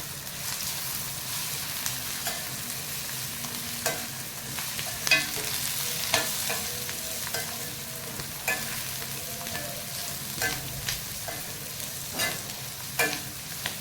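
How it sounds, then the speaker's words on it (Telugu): Onions fry in a small kadai, giving a steady, close sizzle. A spatula scrapes and taps the pan every second or so, and no one speaks. "బాగా వేగనివ్వాలండి ఉల్లిపాయలు అవన్నీ."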